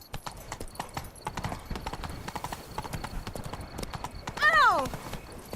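Roach the horse's hooves clip-clop in a steady, close rhythm through The Witcher 3 game audio, ending in a brief loud whinny near the end, with speech also present.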